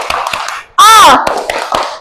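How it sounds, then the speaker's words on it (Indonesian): Students doing the rhythmic 'tepuk semangat' clap in a classroom, crisp patterned hand claps on either side of a short loud cheer of voices. "Tepuk semangat."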